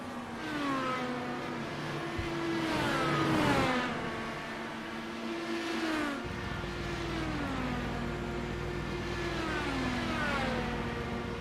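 A race car engine in the pits at Monza during a PRI Formula Indy Series Italian GP sim race, with rising and falling whines as the engine revs through several gear changes, heard at moderate level with no talk.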